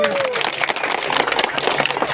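A crowd clapping together at a lively Indonesian gathering, a steady dense patter of many hands running throughout, with voices calling out over it.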